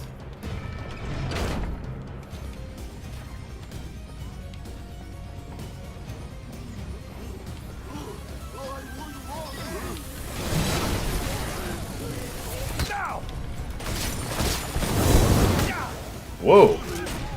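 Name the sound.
explosions in the video game Orcs Must Die! 3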